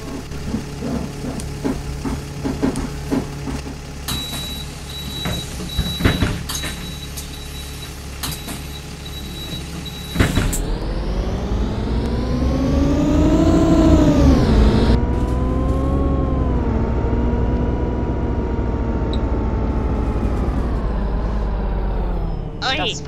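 Solbus Solcity SM10 city bus on line 252 in Gladbeck, idling with clicks and hisses, then pulling away with a rising, loud engine whine that drops and climbs again through gear changes, heard from on board.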